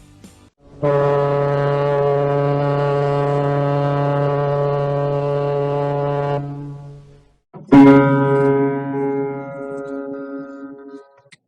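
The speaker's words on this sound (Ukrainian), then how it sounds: "Пливе поважно пароплав туди, де він ще не бував. Гучномовний ще який, і у нього звук низький." A deep, loud steamship horn blasts steadily for several seconds, pauses briefly, then sounds again and fades.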